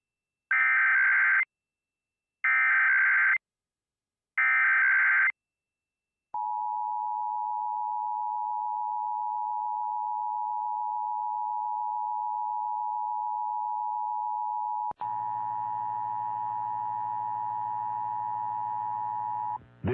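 A coordinated monthly broadcast emergency alert system test: three loud, evenly spaced bursts of data tones, then a long, steady, piercing attention tone that continues with a rougher edge near the end.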